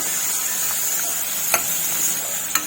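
Chopped medium tomato being sautéed in hot oil for a cabbage and chana dal dish: a steady, close sizzle fills the clip, with two brief sharp scrapes of stirring near the end.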